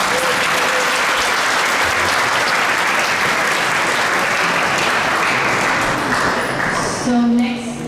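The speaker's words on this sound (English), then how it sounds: "Can we get another round of applause?" Sustained, dense applause from a large audience at a Sunday temple gathering with lecture and feast, loud and steady for several seconds before thinning slightly near the end.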